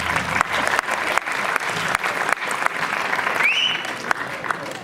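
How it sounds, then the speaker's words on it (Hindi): Audience applause at a live Sindhi comedy night, steady clapping from a crowd filling the whole stretch with a few sharper claps standing out. "थोड़ी ताड़ियूं घटि थियूं अचनि।"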